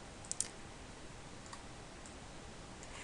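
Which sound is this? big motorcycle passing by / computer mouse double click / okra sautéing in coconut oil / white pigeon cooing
computer mouse double click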